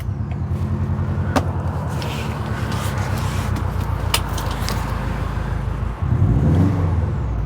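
A car's engine turns over and settles into a steady, close idle with a deep rhythmic rumble, a few clicks and knocks overhead, then a louder surge near the end.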